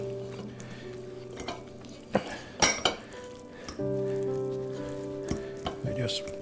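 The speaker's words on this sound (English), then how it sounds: "Keep mixing it up till the white gets into little small pieces and the bread gets all filled with the yellow from the egg" Egg and bread mixture for a hospital egg being stirred in a sizzling pan, with a soft frying hiss, humming tones and several sharp clinks of a utensil against the pan.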